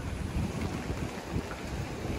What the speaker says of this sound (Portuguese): O vento que tá forte agora.